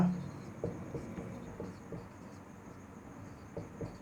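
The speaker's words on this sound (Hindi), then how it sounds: "लिख दे रहा हूँ मैं" Pen or chalk scratches across a board in short, soft strokes with small gaps between them, under a faint steady background hiss.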